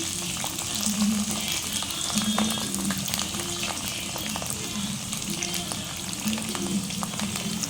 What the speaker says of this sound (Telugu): హాఫ్ కేజీ కాకరకాయ మనం ఫ్రై చేసుకోవాలి కదా కొంచెం ఆయిల్ ఎక్కువనే ఉంటుంది